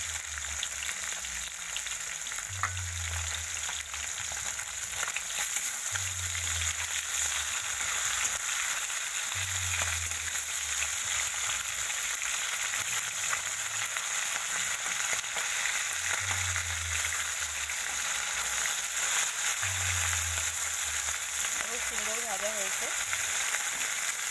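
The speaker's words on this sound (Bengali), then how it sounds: "এই দুটো মাছ আমি ভেজে নেব" Tilapia fish fry steadily in hot oil in a pan, giving a continuous, loud crackling sizzle that lasts throughout. Soft low thumps recur at a regular pace beneath it.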